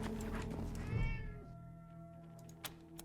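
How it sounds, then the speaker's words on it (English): A cat in the video game Wasteland 3 lets out one drawn-out meow with a rising then falling pitch, close and clear over a low steady background hum, followed by a couple of faint clicks. "now it's just a cat"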